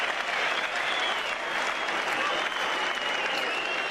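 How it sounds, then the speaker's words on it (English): A cricket crowd at a Test match in Brisbane applauds a boundary, sustained broad clapping from a large distant stand with commentary over the top. "The crowd really appreciating that."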